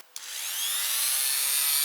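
Brass wire wheel on a power tool brushing an upcycled wooden cottage piece, starting with a click and spinning up into a bright, steady hissing scrub that holds close and loud.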